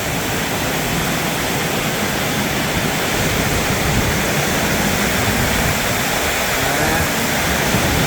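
Heavy summer storm in Thailand, with wind-driven rain blowing sideways: a loud, steady broadband roar of downpour and gusts that continues unbroken throughout, close and dense like rushing water.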